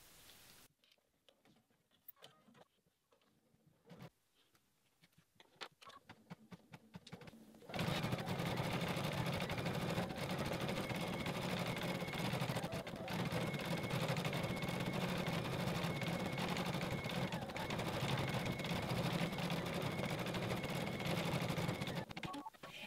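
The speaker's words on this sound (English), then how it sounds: "the little flower shape has been completely set and stitched down into place" An embroidery machine stitches the satin edge around an applique flower on a snap pouch, starting with sparse clicks and ticks, then settling into a long, steady, close mechanical whirring hum.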